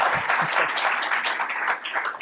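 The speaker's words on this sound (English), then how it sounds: "Please, round of applause today." A conference audience gives a round of applause at a discussion on national service, a short burst of many hands clapping at moderate distance, fairly even and brief.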